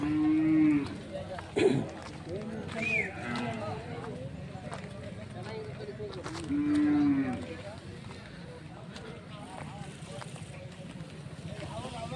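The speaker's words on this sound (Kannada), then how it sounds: "ಕರುಗಳು ನೋಡಿ ಚೆನ್ನಾಗಿದ್ದಾವೆ" Calves at the Jodugatte cattle market in Karnataka moo in two loud, drawn-out calls, one at the start and one midway, over steady crowd chatter and market bustle, with someone talking nearby.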